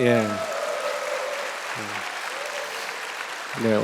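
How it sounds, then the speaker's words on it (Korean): An audience at a workplace mission gathering applauds the worship team with a steady, even patter of clapping, while a voice speaks briefly over it at the start, in the middle and again at the end. "오늘 찬양팀의 쇄신에 큰 박수를 보내드리고 싶습니다"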